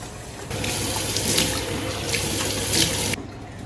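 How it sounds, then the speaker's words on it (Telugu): Water runs from a sink tap during face washing, a steady close splashing rush that starts abruptly, holds for about two and a half seconds and then cuts off. "Done with my face wash."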